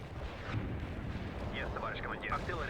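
Artillery fire in World in Conflict, a dense rumbling barrage of low booms running throughout, with radio-style chatter and whistling effects layered over the battle noise.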